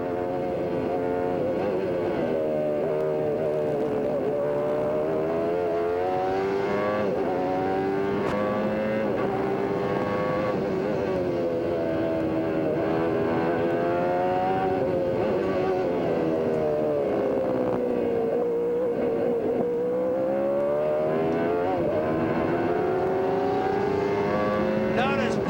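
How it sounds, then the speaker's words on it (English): A Honda V8 IndyCar engine at the 1994 Mid-Ohio race, heard from an onboard camera, roars continuously, its pitch rising and falling through gear changes and corners, with commentators talking over it. "We're hearing the Honda. It fires like your passenger car that you drive on the street. It's a V8 engine."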